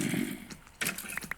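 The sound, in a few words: skeletons burning in a video game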